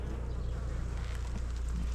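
Steady, dense buzzing of many honeybees close by, a continuous drone with no pauses and no voices.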